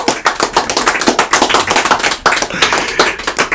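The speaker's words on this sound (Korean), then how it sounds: "박수 쳐주시기 바랍니다." Clapping from a small audience at a year-end makgeolli party, loud and close, made of quick uneven hand claps that keep a steady burst-like rhythm for several seconds.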